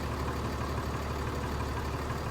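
A truck engine in the game Farming Simulator 22 drones steadily and loudly during a tractor pull, a continuous low rumble holding near-constant revs with no pauses or talk.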